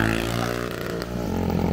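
A motorcycle engine with a 150 or OHC 70mm big-bore kit idles with a rough, throbbing hum, then revs up briefly near the end, close and fairly loud.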